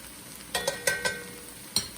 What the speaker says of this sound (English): I'm going to add my farro, and this is a pearl farro